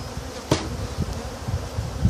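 A dense, steady buzz of many honeybees in front of a hive, close by, with individual insects droning past the ear.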